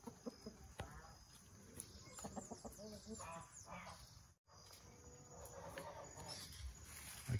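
Farmyard chickens cluck intermittently in the background while someone speaks throughout in Portuguese about feeding them chopped banana stalk as a natural poultry dewormer.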